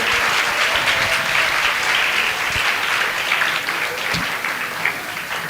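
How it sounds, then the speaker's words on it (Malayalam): Applause for a pastor at a Revival VBS gathering: a sustained round of clapping from a crowd fills the whole stretch, loud and steady before tapering slightly near the end. "Let's give a big round of applause for Pastor Uncle."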